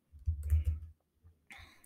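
A single computer keyboard key, the Enter key, is pressed in a quiet room: a soft low thump with a clicky release, then a faint second click moments later.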